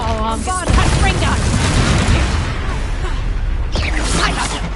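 A Confringo blasting spell exploding in Hogwarts Legacy, a loud booming blast with whooshing and crashing debris, layered with game effects and a shouted voice.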